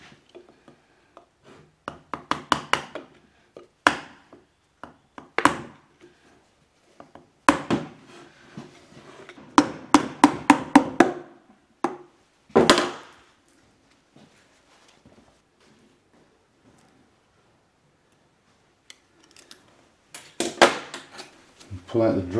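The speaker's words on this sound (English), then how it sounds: "Tap out the drive shaft seal." Drive shaft seal tapped out of a Toyota E154F gearbox, sharp metallic taps in irregular clusters with pauses between them, close and moderately loud, alongside some talking.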